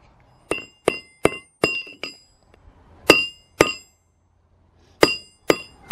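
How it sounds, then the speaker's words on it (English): A hammer strikes a spent ammunition cartridge shell again and again to flatten it, giving sharp metallic clinks in uneven bursts of two to four blows separated by short pauses, close and fairly loud with nothing else heard. "the first thing I gotta do is hammer this shell out so that it's totally flat"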